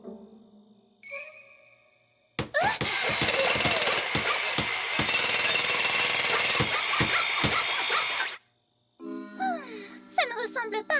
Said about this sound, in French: Marteau. Marteau. Marteau. Marteau.